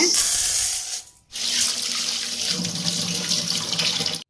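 Black-eyed peas, already roasted, washed under a running kitchen tap. Water gushes loudly and steadily, cuts out briefly for a moment, then hisses and splashes again, close up with no talking.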